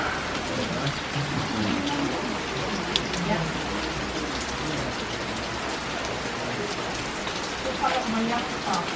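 Steady rain patters hard on a covered outdoor table in the Somerset Levels, a dense constant hiss with scattered louder drops close by, and a person speaking faintly beneath it.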